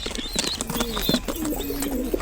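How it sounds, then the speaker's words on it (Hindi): Soft, low coos from domestic pigeons and their young repeat in short phrases, with a few higher chirps and light rustling nearby. "देखिए ये हमारे सारे कबूतर बैठे हुए हैं।"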